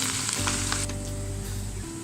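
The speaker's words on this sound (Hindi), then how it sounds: "इसी ऑयल में अब हम लहसुन अदरक का पेस्ट डालेंगे" Garlic and ginger paste sizzles steadily in hot oil in a pan, a continuous close frying hiss with no talk.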